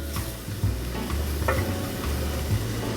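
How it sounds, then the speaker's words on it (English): Flour roux cooking over medium heat in a pan as a spoon stirs it, giving a soft continuous sizzle with scraping strokes and a couple of brief clinks. "we're going to put our 2 tablespoons of flour right on top, and that's going to make our roux, which thickens our sauce"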